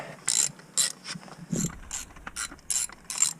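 A hand ratchet clicks in quick repeated bursts, about eight strokes, snugging intake manifold bolts on an Acura TL SH-AWD. The sound is close and crisp with short pauses between strokes.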